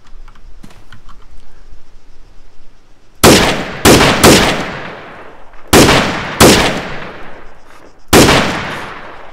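Grenade launcher rounds fired in Arma 3 with the RH M16/M4 weapons pack: six loud, close, booming thumps with decaying tails, spaced a second or two apart, following a quiet stretch of faint clicks.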